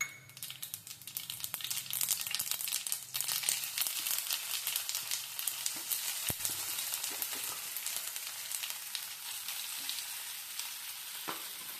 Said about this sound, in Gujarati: તળો.